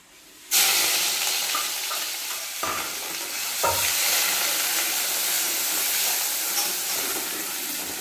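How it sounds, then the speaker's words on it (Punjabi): Onions drop into hot refined oil in a kadai and burst into a loud, sudden sizzle that settles into a steady, close hiss with occasional stirring, no voices. "ਉਹਦੇ ਵਿੱਚ ਆਪਾਂ ਪਾ ਲਿਆ ਰਿਫਾਈਨਡ ਆਇਲ ਇੱਕ ਪਰਸ਼ੀ ਤਾਂ ਹੁਣ ਆਪਾਂ ਇਹ ਵਿੱਚ ਪਾਵਾਂਗੇ ਪਿਆਜ਼"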